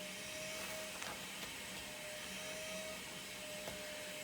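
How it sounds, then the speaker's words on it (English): A steady, droning motor hum with a faint whine runs throughout from an outdoor vacuum cleaner, muffled and fairly distant. "I think he's got one of those outdoor vacuum cleaners."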